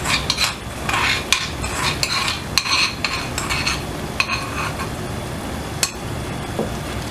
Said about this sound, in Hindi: मिक्स कर लेंगे इसको अच्छी तरह।